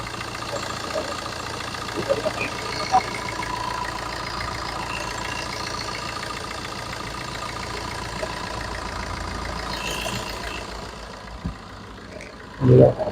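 A used car offered for sale at a dealer idles with a steady, even engine drone throughout, fairly loud and continuous, ending with a brief louder bump.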